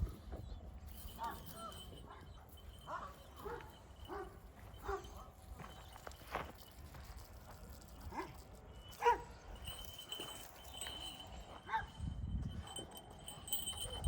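A dog barks a few times at a distance, scattered faint yips amid quiet outdoor background noise.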